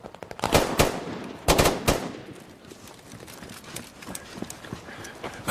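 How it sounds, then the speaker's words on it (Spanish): Gunshots and machine-gun bursts in a war film scene, with loud sharp cracks in quick clusters early on and fainter scattered shots trailing off afterward. "¿No escuchaste los tiros?"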